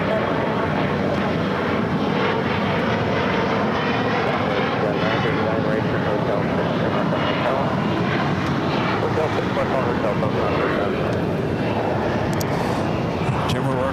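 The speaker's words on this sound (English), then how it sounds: "Air France heading back to Paris, taking off there on 24 left" An Air France Boeing 777-300ER jet takes off on runway 24 left at LAX, a broad, steady engine roar heard from a distance with a voice talking over it throughout.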